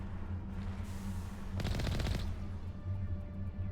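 Burst of rapid gunfire from the video game Mass Effect, a dense crackling volley of about half a second rising over a steady low game hum and ambience.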